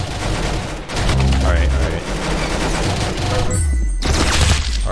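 A futuristic gun in Roblox Arsenal fires in rapid, dense bursts of gunfire that run almost continuously and stay loud, with a short gap near the end and a voice talking underneath.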